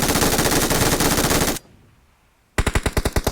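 Automatic gunfire in PUBG Mobile, a loud rapid burst of shots for about a second and a half, a brief near-silent pause, then another fast volley of distinct shots.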